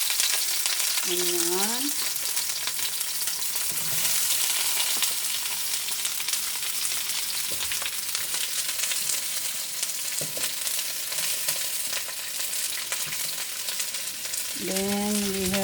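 Onion frying in a pan, a dense continuous hissing sizzle with occasional stirring clatter, while a brief spoken word and short rising whistle-like tones sit over it.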